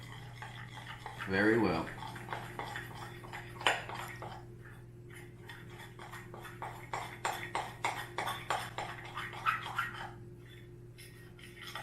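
Bread dough ingredients being mixed in a bowl: a quiet series of scraping, clinking stirs building into a rapid rhythmic run, with a steady hum underneath and a voice speaking briefly.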